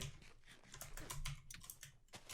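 Quick, irregular clicks of keys being typed on a computer keyboard, close and fairly quiet, with short bursts and brief pauses between them and no talk.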